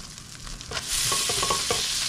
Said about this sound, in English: we want them to sear on both sides